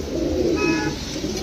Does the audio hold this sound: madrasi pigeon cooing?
yes